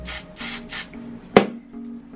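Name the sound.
hairspray being sprayed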